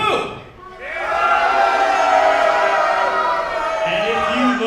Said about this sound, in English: let me hear how you boo